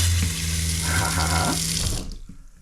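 Hot water from a tankless water heater gushes steadily from a tap for about two seconds, then cuts off, leaving a few faint drips and a quieter tail.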